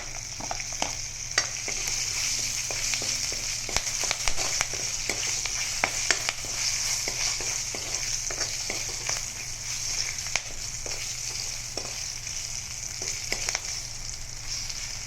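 Bay leaf, chilli and five-spice sizzle in hot oil at the start of a pointed gourd curry, a steady, close frying hiss scattered with sharp crackles and pops, with no talk.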